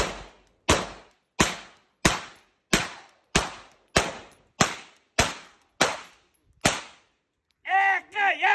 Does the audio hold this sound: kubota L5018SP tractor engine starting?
no